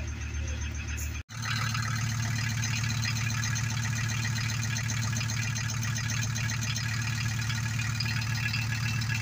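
A rusty Volkswagen T4 van's engine runs steadily just after starting, a low, even idle with a brief dropout near the start, then a continuous rumble alone with no talk.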